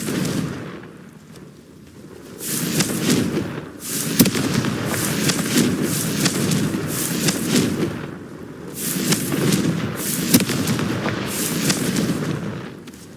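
Confringo fire spell blasts in Hogwarts Legacy, a series of booming explosive bursts and crackling impacts repeating every second or two over a rumbling battle backdrop, with no talking.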